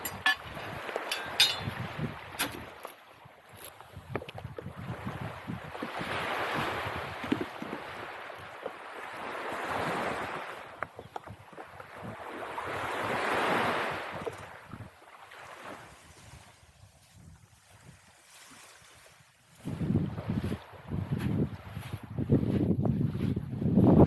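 Wind and surf on a tropical beach along the coast roar as a steady broadband wash, swelling and easing in long surges, with a rougher gust of wind buffeting the microphone near the end.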